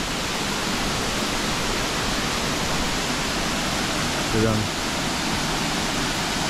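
Strong flow of a small waterfall at Dexing Waterfall in Lugu, Nantou, a steady broadband rush of falling water heard close and continuous, with a brief voice speaking over it.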